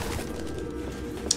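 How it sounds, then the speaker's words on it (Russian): Pigeons or doves coo softly in the background of the video game Detroit: Become Human, a low steady murmur of calls running through the moment with a brief brighter chirp near the end. "Слишком много птиц, я боюсь, будет немножко проседать."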